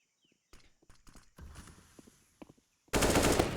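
Counter-Strike AK rifle gunfire erupts near the end as a loud, dense burst following scattered shuffling and clicking game sounds.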